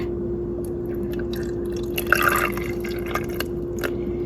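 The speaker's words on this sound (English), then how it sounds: "plugged in, and then you fill in the water." Water is poured into a small plugged-in appliance, giving soft trickling and dripping sounds, strongest midway through, over a steady electrical hum, with no voices.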